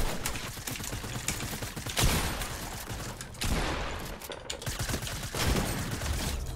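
Bursts of rapid gunfire crackle in a shooter video game as the player is struck, loud repeated volleys in several waves over a few seconds.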